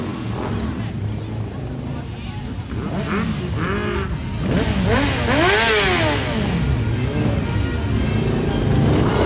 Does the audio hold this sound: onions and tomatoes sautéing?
no